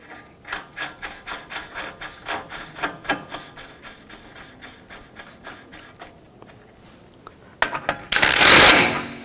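A metal axle nut is threaded onto the CV axle of a Nissan Rogue, heard as a string of small rhythmic metallic clicks and taps, then brief quiet before a louder rustling clatter near the end.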